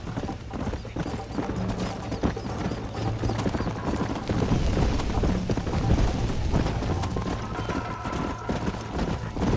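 Galloping horse hooves in Red Dead Redemption on Xbox Series S, a steady, fast clip-clop rhythm running throughout with clattering tack and mechanical rattle, close and continuous.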